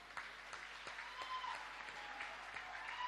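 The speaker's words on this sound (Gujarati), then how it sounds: "કેળવણી ધામ અને સરદાર ધામ આ બંને સંસ્થાઓ માટે ફરીથી તાળીઓનો ગુંજારો થઈ જાય" An audience applauds at a motivational talk, with steady, even clapping that sounds faint and somewhat distant and keeps going without a break.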